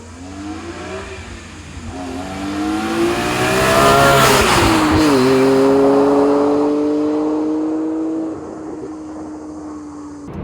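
BMW E46 M3 S54 inline-six with six individual throttle bodies revving, the engine note climbing to a loud peak mid-clip, then holding a high steady pitch before easing off.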